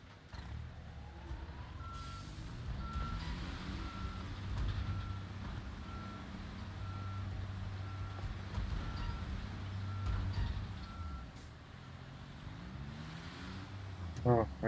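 Truck reversing alarm in the Construction Simulator video game, a steady run of evenly spaced beeps over a continuous engine rumble with a burst of higher-pitched beeping at the end.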